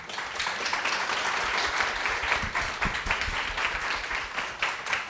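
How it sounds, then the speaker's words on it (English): An audience applauds a panel at a talk, with steady, dense clapping filling the whole stretch at moderate volume. A few faint voices sit beneath it. "So round of applause, please."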